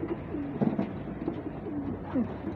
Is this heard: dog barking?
no